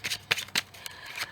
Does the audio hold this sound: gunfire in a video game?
no